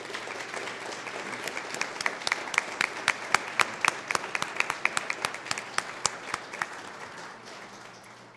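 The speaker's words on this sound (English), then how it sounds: "let's give them a round of applause" An audience at an oath of office ceremony applauds veterans, with many hands clapping steadily and a few sharp nearby claps standing out, holding for several seconds before slowly fading.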